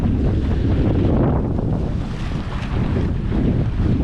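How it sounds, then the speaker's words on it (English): Gusty wind roars steadily across the microphone aboard a sailboat under mainsail, with rushing water and hull noise beneath, loud and continuous throughout with no voices. "Wind's a little gusty, so it's inconsistent"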